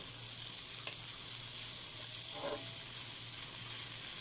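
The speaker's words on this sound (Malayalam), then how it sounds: "അപ്പോൾ നമ്മുടെ സബോള നന്നായിട്ട് വഴറ്റി ഇട്ടിട്ടുണ്ട്" Onions sauté in a pan for a tuna dish, giving a steady, quiet sizzle under a soft background hum, with one faint clink near the start.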